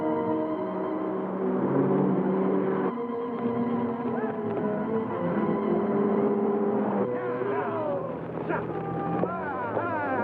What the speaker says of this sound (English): There's a car. Hear it? It's coming fast.